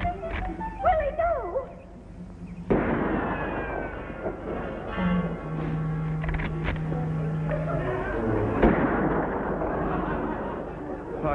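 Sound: gunshots fired at a rabbit

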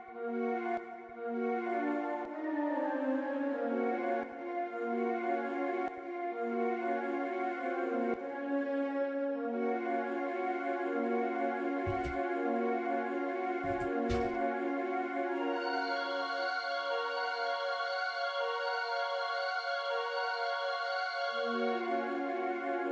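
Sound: dark half-step melody on Nexus Ambient Pad 5 synth pad

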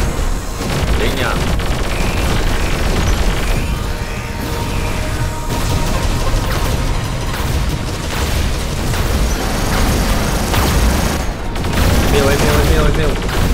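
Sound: gunfire from War Robots video game

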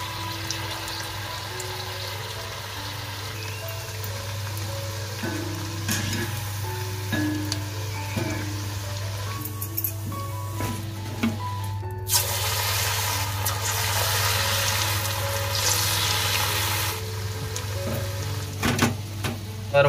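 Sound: onion bhaji frying in hot oil in a kadhai

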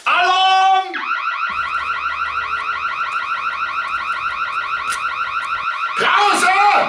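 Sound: alarm sounding

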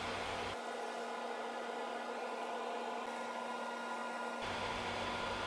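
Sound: Forstner bit drilling out cedar and resin

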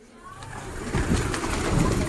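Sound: pigeons

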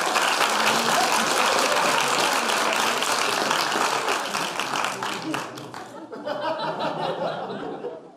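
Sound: audience applause at a comedy show

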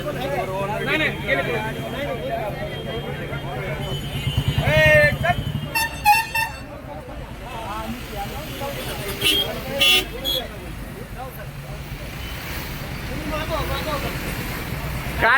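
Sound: traffic jam with honking vehicles on highway

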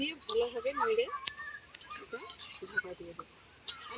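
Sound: stirring pumpkin dish with spoon and covering pot with lid

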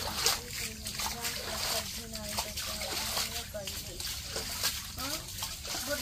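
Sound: water being scooped and thrown out with a bowl

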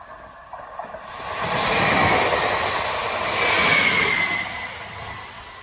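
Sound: train passing

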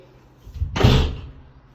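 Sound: door being closed

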